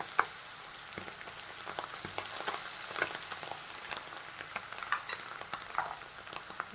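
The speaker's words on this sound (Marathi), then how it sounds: "पनीर छान भाजलेलं आहे तर आपण आता सगळा मसाला घालणार आहोत" Paneer fries in a pan as spices are added, giving a faint, steady sizzle with frequent light taps and scrapes of a stirring utensil nearby.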